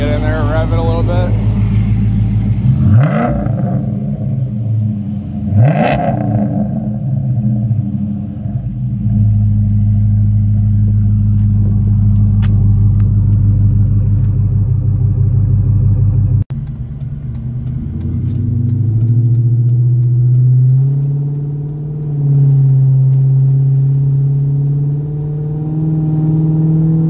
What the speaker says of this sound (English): Get in there and rev it a little bit.